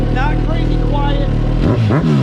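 A brand-new 2022 Suzuki Hayabusa sport motorcycle, warmed up, runs with a steady close engine drone while a person talks over it, and the pitch rises briefly near the end.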